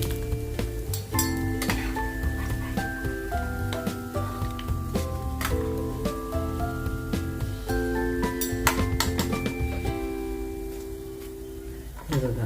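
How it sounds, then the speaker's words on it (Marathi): Bread slices fry in hot oil for shahi tukda, a steady sizzle with occasional clinks of a utensil, running beneath a tuneful melodic background throughout. "अशा रंगावर तळून घ्यायचे असे मी सर्व ब्रेड तळून घेतले"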